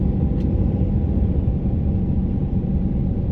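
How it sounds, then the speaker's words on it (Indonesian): A truck's refrigeration unit hums steadily while the vehicle drives through congested mountain roads, giving a loud, continuous low rumble with no break for the whole stretch. "Kalau kalian dengar suara berisik itu dari mesin pendingin mobil"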